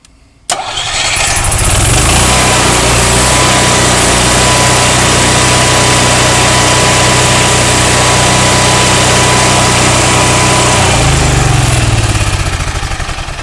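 A 2020 Greyhawk 29MV RV generator cranks and catches within a second, then runs at a loud, steady engine drone, close up, before its note drops near the end.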